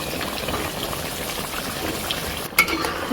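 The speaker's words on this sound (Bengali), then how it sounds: "দেখো কতটা সুন্দরভাবে কষানো হচ্ছে রাজাহাঁসটা" Desi goose meat being sautéed with potatoes in oil, a steady moderate frying hiss and bubbling with light stirring, broken near the end by a brief clunk, likely a lid or utensil.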